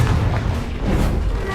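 The Confringo fire spell exploding in the Hogwarts Legacy video game, a loud dense blast rumbling continuously through the whole short moment amid game noise.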